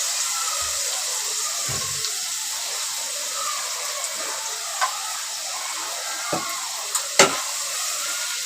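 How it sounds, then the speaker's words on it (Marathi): Onions frying in a generous amount of oil in a pan, a soft continuous sizzle with a few sharp clicks and knocks of a utensil against the pan, heard alone without talk. "कांदा परतून घेते चांगला तेल थोडं जास्त टाकायचं"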